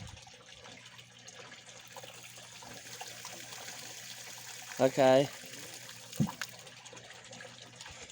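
Water is tipped out of a newly built koi pond waterfall filter assembly, a low, steady trickle and splash running throughout, with one short spoken word and a brief louder knock partway through.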